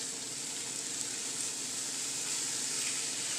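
Ground meat spread out in a skillet sizzles steadily, a soft, even hiss with no breaks, alone and fairly quiet.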